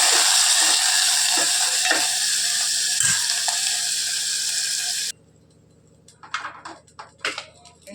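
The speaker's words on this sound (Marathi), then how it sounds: "तेल झालेलं आहे थोडासा कांदा मी बिर्याणीसाठी वरण टाकायला भाजून घेते" Onion sizzles loudly in hot oil for mutton dum biryani, a steady close frying hiss that cuts out abruptly partway, leaving quiet clinks and stirring sounds.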